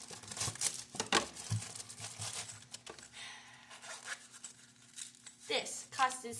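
A $16 sewing kit is opened and rummaged through, with close crinkling, rustling and tearing of packaging and small clicks of items being handled in irregular bursts.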